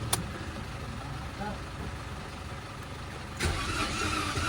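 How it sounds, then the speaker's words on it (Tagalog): A Toyota Wigo being started after its battery was charged: a starter crank bursts in with a transient near the start and a louder surge later, over steady engine noise while people talk nearby. "so try na nating paandarin itong Toyota Wigo"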